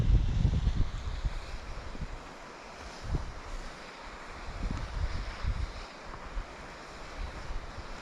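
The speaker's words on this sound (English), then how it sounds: "The wind's carrying the sound of the water up here." Soft, steady rush of a stream heard from afar at Davidson's Linn, carried up by gusty wind buffeting the microphone, with no voices.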